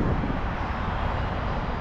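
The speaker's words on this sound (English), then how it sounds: "there's helicopters and everything else flying around here" Helicopters fly overhead in Nashville, Tennessee, a continuous broad engine roar with wind rumble, steady and fairly loud for the whole short stretch.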